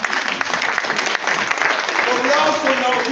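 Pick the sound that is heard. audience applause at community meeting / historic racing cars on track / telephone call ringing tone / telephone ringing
audience applause at community meeting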